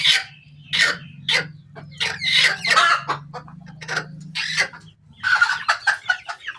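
Chickens on a farm cluck and call in short close bursts, several birds overlapping with brief pauses and no voices.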